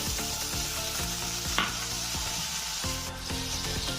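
Beans frying in hot oil in a pan for a vegetarian daliya khichdi: a loud, continuous close-up sizzle with crackling, unbroken throughout and no voices.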